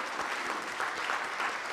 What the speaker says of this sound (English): I think now we need to clap for him.